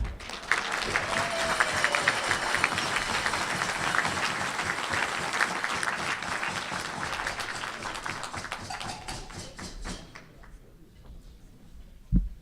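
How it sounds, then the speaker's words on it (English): A Rotary Club luncheon crowd gives a long round of applause for a visiting Navy submarine commander, dense sustained clapping for about ten seconds before it quickly dies away, followed by a brief sound near the end. "let's give a huge Rotary welcome and round of applause"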